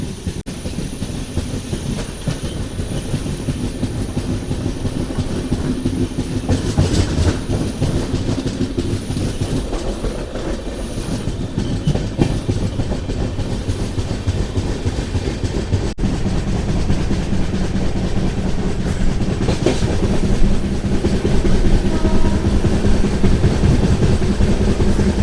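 Onboard the Kachiguda–Mysuru SF Express on its first LHB coach run, a steady loud rail roar with rhythmic clickety-clack of wheels over joints continues throughout, with occasional faint squeals and no talking.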